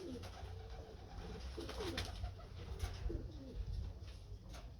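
Pigeons at a pigeon keeper's loft coo repeatedly in low, rolling phrases, several birds overlapping at close range against a steady background hum.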